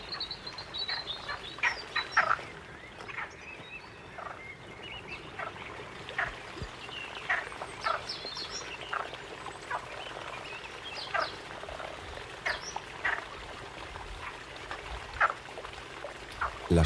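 Frogs call from a pond on Gran Canaria in spring, a steady chorus of short croaking pulses repeating irregularly, fairly faint and distant with no voices.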